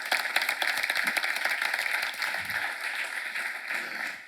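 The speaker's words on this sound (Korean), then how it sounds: "박수 한번 하세요." Congregation applauding during a church academy seminar at a Korean church, a steady wash of many hands clapping that holds at an even level throughout, without anyone speaking over it.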